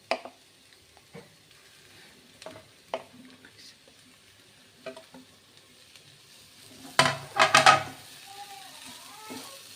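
Brinjal drops into a pan of potato and tomato for Bhogi vegetables, followed by scattered clinks and stirring taps, then a louder burst of sizzling frying.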